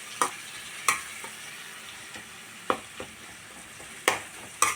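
A spoon scrapes and clinks through tomato masala in a hot pan for egg fry, in several sharp, irregular strokes over a soft, steady sizzle, close and without talk.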